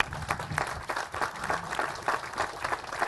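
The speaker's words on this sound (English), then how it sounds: "Let's give Steve a round of applause, please." Audience applause for Steve Hennessy at a state trail ribbon cutting outdoors, a steady moderate wash of many hands clapping continuously with no break throughout.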